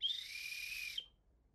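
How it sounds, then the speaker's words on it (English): A weak, hesitant referee whistle blow of about one second, a thin single tone that fades out, fairly faint with no talk. "Does that sound like a confident whistle?"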